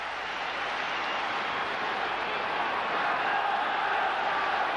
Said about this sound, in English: So the crowd respond to that.